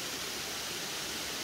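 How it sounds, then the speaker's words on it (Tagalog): Daranak Falls pours in a steady, dense rush of white water, heard close and loud as an even, unbroken roar with no other sounds. "Yan yung falls."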